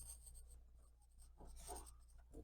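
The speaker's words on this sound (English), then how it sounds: "Make sure we write it down." A pen writes on paper during an eighth-grade science lesson, giving faint, close scratchy strokes in short irregular bursts over a quiet room.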